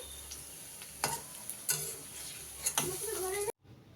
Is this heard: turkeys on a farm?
no